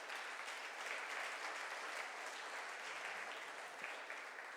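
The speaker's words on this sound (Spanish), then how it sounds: "Denle el aplauso al Señor." A church congregation's applause during a sermon: a faint, distant, even hiss of many hands clapping, sustained without break and without clear individual claps.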